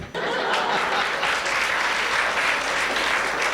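Audience applause at a live comedic Hindi performance, a dense, even burst of many hands clapping that starts abruptly and holds steady at full volume.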